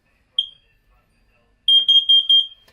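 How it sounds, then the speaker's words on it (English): A carbon monoxide alarm sounds loud and close, one short beep and then a quick run of four shrill beeps in the temporal-four pattern. "the 4 fast beeps is referred to as the temporal 4"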